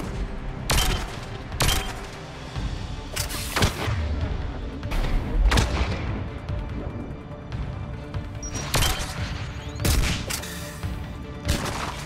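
Combat in Mass Effect 3 with repeated loud rocket explosions and bursts of gunfire at irregular intervals, sharp booming impacts over a constant rumbling battle background.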